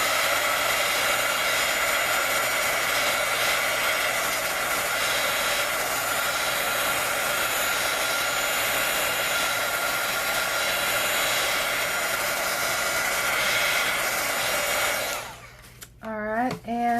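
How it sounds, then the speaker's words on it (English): A craft heat tool blows a continuous, loud, airy whoosh while heat setting ink on a card, running steadily for about fifteen seconds before cutting off abruptly. "I'm going to go ahead and heat set this with my craft heat tool for just a second."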